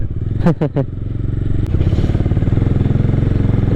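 A Bajaj Dominar 250 motorcycle rides along steadily, its engine droning loud and close throughout, with a brief clatter near the start and a short sharp tick before the pulsing engine note settles in.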